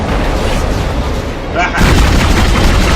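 Booming explosive blasts from the Dead Space video game burst loudly, a dense rumbling crash that swells and sustains near the end.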